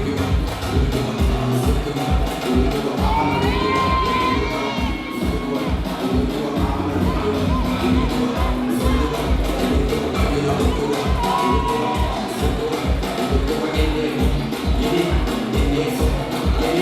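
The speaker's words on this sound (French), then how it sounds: "Applaudissez, applaudissez." Crowd at a women's charity day in Bergamo, clapping in a steady rhythmic beat with cheering voices layered over it, loud and continuous throughout.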